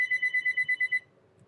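A mobile phone rings indoors with a rapid train of nine bright electronic beeps in quick regular rhythm, close and clear, then stops abruptly, leaving faint room noise.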